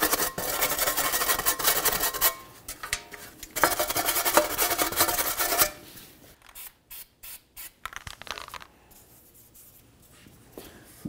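Scrubbing the backing plate of a 2013-2015 Chevrolet Malibu rear wheel hub: about six seconds of dense, steady rasping strokes, then quieter, intermittent short scrubs with pauses between.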